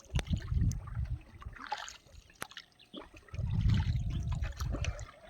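Fishing boat rowed with oars, splashing strokes in two bursts of water sloshing with scattered drips and knocks between, close by.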